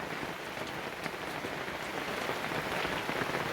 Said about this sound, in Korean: 아, 비 정말 많이 옵니다.